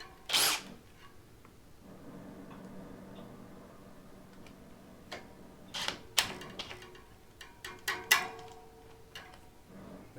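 An 18-volt Bosch Chameleon power tool tightening a bicycle part: a low whirring drive run in the middle, surrounded by sharp ratcheting clicks and clacks, close and moderately loud.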